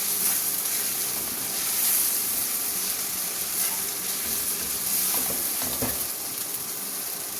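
Fried taro root (arbi) sizzles hard in a spiced masala as it is sautéed in a pan, with a dense, even hiss throughout and a few faint clinks of stirring.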